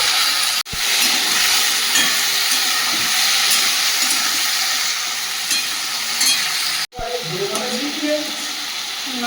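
Chopped papaya, potato and banana go into hot oil spiced with onion, ginger, tomato, five-spice and green chilli, giving a loud, steady hiss that runs nearly unbroken for several seconds, with two brief dips.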